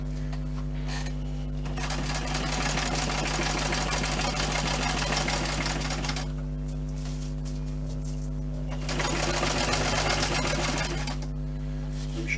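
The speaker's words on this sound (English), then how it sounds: "So let's stitch this on." A sewing machine stitches buckles onto a bushcraft water bottle pouch, running in steady rhythmic bursts with a humming motor, pausing briefly between runs.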